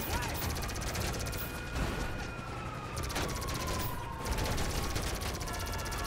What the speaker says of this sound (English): I think I have unlimited ammo, which again is very nice with a plasma cannon.